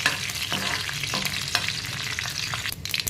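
Mustard seeds sizzle and crackle in hot oil as a tempering for tomato rasam, a steady loud frying hiss with small pops and stirring, with no speech over it.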